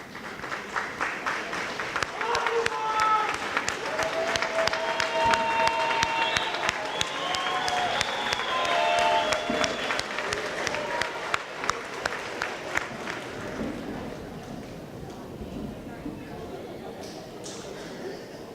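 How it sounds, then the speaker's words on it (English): A high school graduation crowd applauds and cheers loudly for a long stretch, with voices mixed into the clapping, before the ovation gradually fades toward quiet. "so the graduates can take a moment to applaud and honor you"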